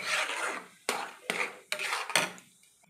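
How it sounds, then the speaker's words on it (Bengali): Semolina and water stirred into a thick dough in a pot give a close, rasping scrape, broken by four sharp knocks of the utensil against the pot before the sound tails off. "এবার ভালো করে সুজিটা আমি নেড়ে নেড়ে একটা ভালো করে ডো তৈরি করে নেব"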